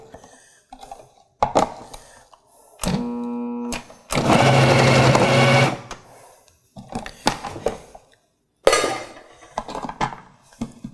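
A KitchenAid Pro Line KFP1642 food processor dices onion and zucchini: short bursts of whirring motor and chopping, then one sustained loud grinding run lasting a couple of seconds, with clatter and pauses between.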